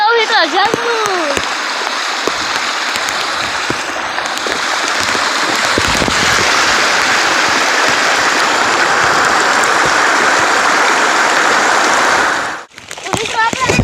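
Swollen river water rushes loudly in a steady, continuous roar after rain, with a voice speaking over it at moments.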